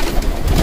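Homing pigeon cooing close by, a soft low burbling coo that continues steadily through the short moment with no talk over it.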